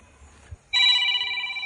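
A telephone rings for an incoming call, loud and close, with a steady ringing tone that starts abruptly after a brief quiet moment and continues to the end.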